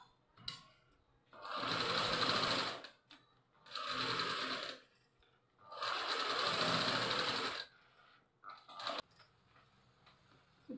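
A sewing machine stitches a zero-size baby frock in three close bursts of rapid, steady stitching, each about one to two seconds long, separated by short quiet pauses.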